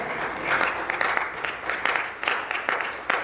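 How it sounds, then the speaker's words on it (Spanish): Audience applause at a church service, steady clapping from a congregation with rhythmic accents throughout, fairly close and continuous. "Denle un fuerte aplauso al Señor"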